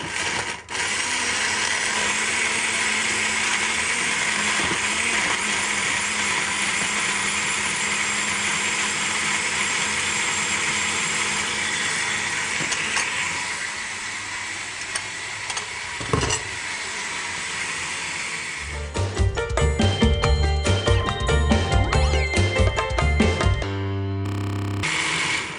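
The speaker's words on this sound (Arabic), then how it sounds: "وراح نطحنهم" A blender grinds vegetables and tomatoes for soup, running as a loud, continuous whirring motor that changes to a choppier, lower churning sound in the final seconds before stopping.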